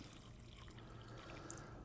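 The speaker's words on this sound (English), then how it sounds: "We're going to cover that with just enough water to cover it." Water is poured over salted vegetables in a kitchen, a soft, faint, continuous trickle lasting under two seconds with no voices.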